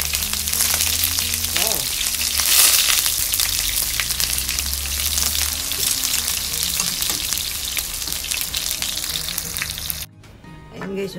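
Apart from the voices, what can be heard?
eggplant frying in a pan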